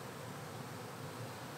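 Bees from an open-air hive buzz in a steady, faint, continuous drone with no voices over it.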